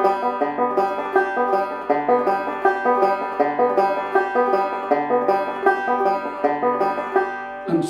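A five-string banjo picked in a fast, even double-thumbing roll, bright plucked notes repeating in a steady rhythm, played alone and up close.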